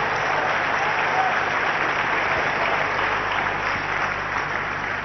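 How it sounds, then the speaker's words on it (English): Church congregation clapping steadily and densely for several seconds, a continuous wash of many hands at even loudness with no speech on top. "Shall we put our hands together and clap for the Lord Jesus?"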